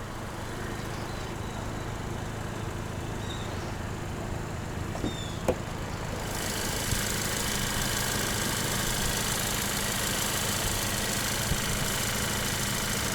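A 2021 Kia Forte GT's 1.6-liter turbo engine idles steadily under the open hood, a close, even hum that grows somewhat louder and brighter partway through.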